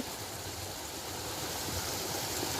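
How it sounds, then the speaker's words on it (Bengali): A waterfall stream running in the Rangamati hills, a steady broad rush of flowing water close by with no talk. "এই দেখেন ঝর্ণা"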